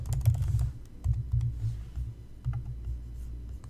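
Rapid typing on a computer keyboard, a steady run of close key clicks with brief pauses, entering an extension search in Visual Studio; no voices.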